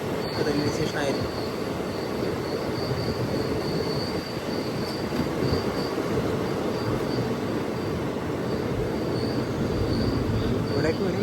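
Rajya Rani Express rolling into Thuvvur railway station, heard from aboard the train: a steady, loud rumble of wheels and carriage noise with a faint high squeal running throughout, no clear pauses.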